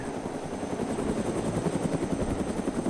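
A helicopter in the survival video game DayZ runs with a loud, steady rotor thump and engine whine, its rhythmic chopping pulses close and dominant throughout with no voices over it.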